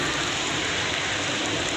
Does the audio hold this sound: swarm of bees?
no